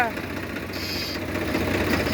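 A tractor engine runs on a farm during night-time wheat sowing. It gives a steady, close mechanical rumble with a continuous throbbing hum for the whole moment.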